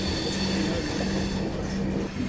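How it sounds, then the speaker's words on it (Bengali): The Tejas Rajdhani Express rumbles past near Tilak Bridge by New Delhi station, a loud, continuous roar of wheels and carriages with a steady low drone throughout. "আমাদের ভারতবর্ষের প্রথম প্রাইভেট ট্রেন তেজস এক্সপ্রেস যাচ্ছে।"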